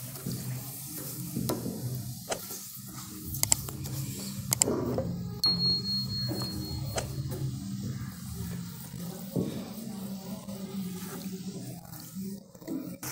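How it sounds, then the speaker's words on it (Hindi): Water added to sugar in a pan for aloo zarda, a steady close bubbling sizzle with stirring scrapes and occasional utensil clinks against the pan, continuing without speech throughout. "आधा कप पानी डाल दीजिए इसके अंदर आप।"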